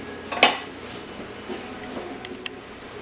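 A metal pot lid set down partly over apples cooking on the stove gives one sharp clank early on, followed by a few faint ticks and small clinks in a quiet kitchen.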